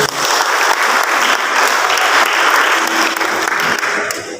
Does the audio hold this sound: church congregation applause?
yes